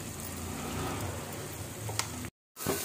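Chili powder frying in oil with tomatoes gives a steady, soft crackling hiss with a few small pops, close and low in level, cut by a brief dropout near the end.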